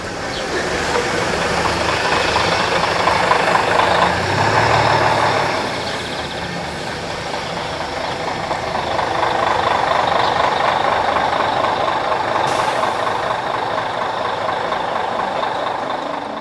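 Swiss post bus engine running steadily, with reversing beeps and air brake release; a loud, continuous diesel rumble with faint high beeping and a brief hiss near the end.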